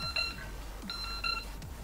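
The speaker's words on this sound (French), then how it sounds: "Je sais pas pourquoi il bip." A ZOOPA Q EVO 550 drone emits repeated short electronic beeps in paired bursts, clear tonal pips over a low steady hum, close and moderately loud.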